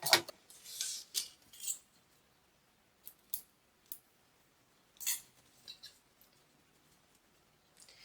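Scissors trim excess fabric while a small tote bag is being sewn, a series of close, crisp snips spaced out over several seconds, with quiet gaps between cuts.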